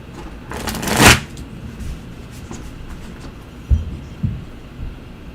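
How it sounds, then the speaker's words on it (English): Cards are riffled in a quick burst, followed by a few soft taps and slaps as the deck is handled in a quiet room. "Shuffle."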